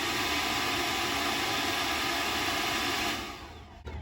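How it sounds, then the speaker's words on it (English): Air from a leaf blower or compressor roars through the tailpipes of a 1969 Chevy C10 pickup in a steady, loud, broadband hiss, then cuts off abruptly near the end. "get your leaf blower or compressor, hook it up to the tailpipes, and shoot some wind through there"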